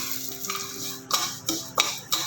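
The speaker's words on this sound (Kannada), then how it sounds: "ಇದಕ್ಕೆ ಒಂದು ಸ್ವಲ್ಪ ತುಪ್ಪ ಹಾಕ್ಕೊಂಡು ಹುರಿಬೇಕಪ್ಪ." Moong dal and rice being roasted in ghee for sweet pongal, a soft sizzle under a series of sharp scraping stirs of a spoon against the pan, close and quiet.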